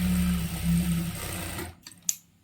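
An electric sewing machine stitches a chudidar seam in a tailoring workshop, running in a steady whir for under two seconds before stopping, followed by a few light clicks.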